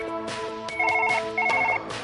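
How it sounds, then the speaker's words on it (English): A phone rings repeatedly with a bright electronic ringtone, its bursts coming in a steady repeating pattern that sits close and clear over quiet background tones. "Shut up, phone."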